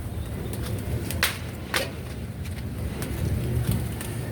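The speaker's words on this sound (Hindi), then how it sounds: "नीचे कबूतर भरे हुए हैं" Soft pigeon coos over steady outdoor background noise, with a couple of brief sharp knocks standing out along the way.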